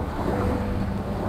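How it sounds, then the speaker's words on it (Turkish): Steady west wind rushing and buffeting over open water aboard a small Nordic Folkboat sailboat, a continuous low roar with faint sloshing, no voices. "Rüzgar ilk denize açıldığım zamankine göre biraz daha arttı."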